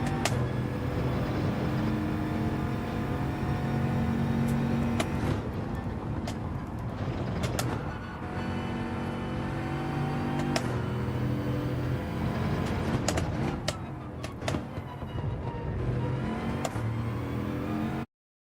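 A big, heavy car in Gran Turismo 7 drives on with a steady droning engine note that rises and falls as it shifts through gears, close and continuous, with faint talk beneath it.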